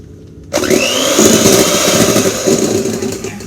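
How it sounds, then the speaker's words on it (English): An electric hand mixer whips cream for a parfait, starting abruptly with a rising whine, then a loud, steady buzzing whir that carries on without a break. "So you see how it's starting to get some ridges that form in the whipped cream while I'm beating."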